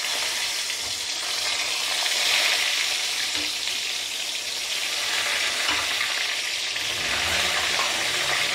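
Stuffed eggplant kalaunji sizzles in hot oil in a pan on a gas stove, a steady bright frying hiss with some crackle throughout, no talk.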